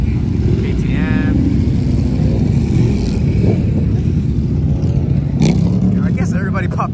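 Motorcycle engines rumble steadily at a busy evening bike meet, including a KTM, with a loud continuous low drone, brief revs and passing machines, and people talking nearby.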